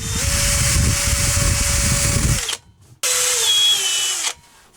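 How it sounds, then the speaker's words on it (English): A power drill with a long 3/16 bit bores holes through composite decking, a loud whining run of about two and a half seconds, a brief pause, then a second burst that stops before the end. "We're using the long drill bit. 3/16, something like that. And I'm just going to continue the holes."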